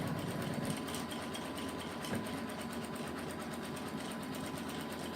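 A Janome Continental 17 embroidery machine with a large 12x19 hoop stitches through quilt batting, giving a steady, fast, high mechanical whir and needle hum that runs continuously and close up with no talking.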